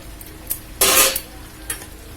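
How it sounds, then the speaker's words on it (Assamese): Meat and fried potatoes being stirred in a pan, with one loud scraping clatter of a utensil and a few short clinks before and after over a faint sizzle. "এইখিনি মই ভালদৰে ভাজি লওঁ।"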